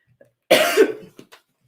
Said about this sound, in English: I have a dry cough